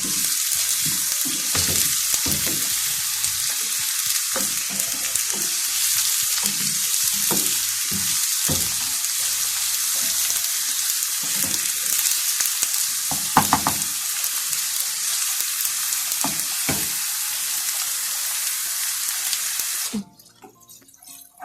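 Vegetables fry loudly in hot ghee for a taro and chard dish, a steady crackling sizzle with occasional stirring clatter, cutting off abruptly near the end.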